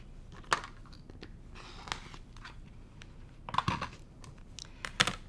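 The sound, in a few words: trimming the edge of vinyl for a project bag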